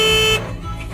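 A large self-driving sweet potato tractor sounds its horn in one loud, close, steady blast lasting under half a second, then cuts off, leaving a low rumble behind.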